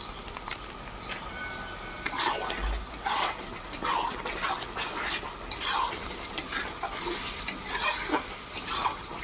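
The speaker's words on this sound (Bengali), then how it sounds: "একটু পেঁয়াজগুলো, রসুনগুলো একটু ভাজা ভাজা হোক" Onions, garlic and turmeric fry for an outdoor picnic mutton curry, a soft sizzle under repeated scraping stirs of a spatula in a rhythmic pattern every second or two.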